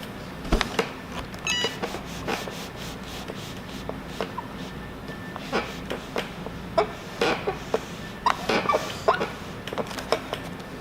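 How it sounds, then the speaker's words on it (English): Squeaky crafting table with loose screws creaks and rubs in a run of short, uneven squeals and scrapes, close and fairly loud, with quiet pauses between. "I need to tighten my screws on my table. It's getting kind of squeaky."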